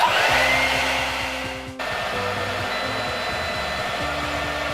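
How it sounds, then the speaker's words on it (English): A heat gun and a hairdryer run together on a marine inverter charger, making a loud, steady blowing roar. The roar dips briefly in pitch partway through, then continues evenly under background music. "We're going to use a heat gun and Rachel's hairdryer to test our install."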